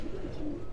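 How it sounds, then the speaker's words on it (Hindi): Breeder pigeons kept in cages, cooing in a soft, low, continuous murmur close by, with no one speaking. "ये सामने आप देख रहे हैं, ये उनके ब्रीडर कबूतरों के केजेस हैं।"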